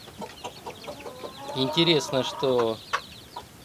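Young chickens from a second brood cluck repeatedly as they are fed grain, with soft scattered calls building to a louder burst of clucking nearby while a person speaks briefly.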